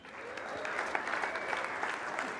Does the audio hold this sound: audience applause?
yes